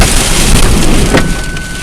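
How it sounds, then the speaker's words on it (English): Strong winter wind from an Arctic storm roars continuously and loudly across a van, a broadband rush with low gusty rumble and a brief harder gust midway. "It's windy, as you can hear with the audio already"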